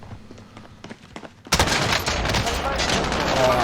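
Hip-fired Oden rifle shots in Call of Duty: Warzone, a dense, loud, close burst of rapid gunfire erupting after a few quieter clicks and thumps, sustained to the end.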